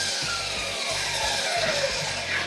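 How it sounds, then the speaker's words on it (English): Steady bench grinder grinding on a portable vise setup mounted in a trailer hitch, a continuous loud, close abrasive whine with a rhythmic low pulsing underneath. "I can grind on here."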